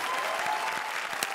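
A Comedy Circus studio audience breaks into loud, dense clapping, a steady wash of many hands heard up close for a brief burst.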